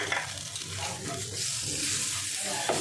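Gram flour and chopped green chillies fry in a pan with an even, close sizzle that holds steady for the whole short stretch, with soft stirring underneath.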